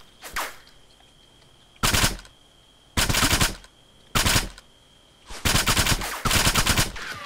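Gunfire in Arma III: loud, close bursts of automatic fire in separate clusters with quiet gaps between, a steady faint tone running underneath.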